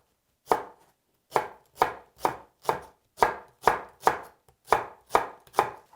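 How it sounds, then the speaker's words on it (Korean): A knife cutting the white part of a green onion on the diagonal for bulgogi, about ten crisp, evenly spaced chops on a cutting board, close and clear, with no voices. "대파는 그냥 흰 부분에 어슷어슷 그냥 썰어 주시면 되고요."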